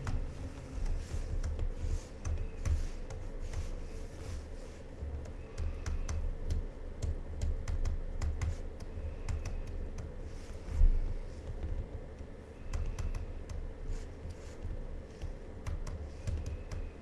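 Keys typed at a steady, moderate pace on a computer keyboard during a calculus lecture on indeterminate forms, with soft clicks running over a constant low room hum and no talking.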